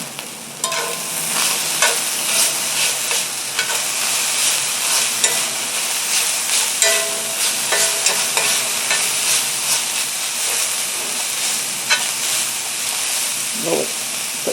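Seasonings of Italian herbs, oregano, salt and pepper being stirred into spaghetti sauce in a sizzling pan: constant bubbling sizzle with frequent rhythmic scraping of the spoon, close and loud, occasional faint voice underneath.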